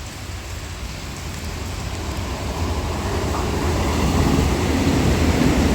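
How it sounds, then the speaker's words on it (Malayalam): An orange Vande Bharat express train rolls through Thiruvananthapuram, Kerala, in rain, a steady broad rumble and hiss that slowly swells louder over several seconds, with no voices. "അങ്ങനെ മഴയത്ത് വീബിയും പകർത്താൻ പറ്റി."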